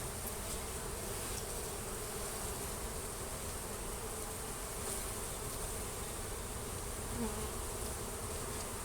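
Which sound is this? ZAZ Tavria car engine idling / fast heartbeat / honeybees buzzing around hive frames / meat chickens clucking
honeybees buzzing around hive frames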